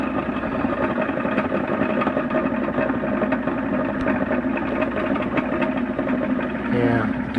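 A belt-driven motor spinning a Nipkow disc in a mechanical televisor winds down, a steady mid-pitched mechanical whir with a faint hum, fairly loud and continuous with a brief change near the end.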